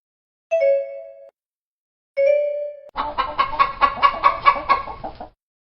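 Two bright chime tones ring out, then a hen clucks in a quick, rhythmic series of close, clear calls lasting a couple of seconds.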